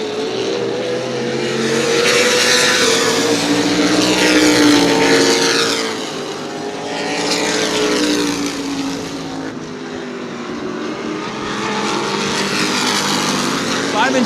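Modified race cars at New Smyrna Speedway roar past in loud, swelling waves of engine noise, rising and fading as the pack thunders by, with an announcer talking over the din.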